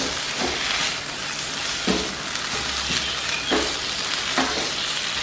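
Chicken 65 pieces, coated in spice masala, fry on a high flame with a steady, loud sizzle and crackle, broken by a few sharp bursts as the pieces are stirred or turned.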